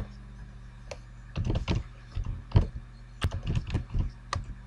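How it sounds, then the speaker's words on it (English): A password is typed on a computer keyboard in quiet surroundings: short bursts of close, crisp key clicks with brief pauses between them. "type in your old password"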